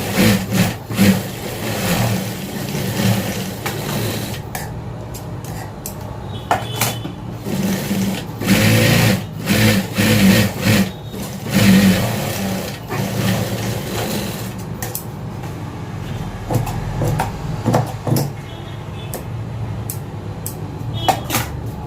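A sewing machine stitches a plain blouse in bursts of rapid mechanical whirring, starting and stopping repeatedly with short pauses between runs, loud and close, with no talking.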